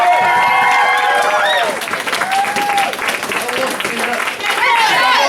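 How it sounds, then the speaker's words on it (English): Audience applause at a January 2018 Dayton Quest Center graduation ceremony, a sustained wash of clapping from a crowd, with cheering and overlapping voices mixed in throughout. "give everybody another round of applause"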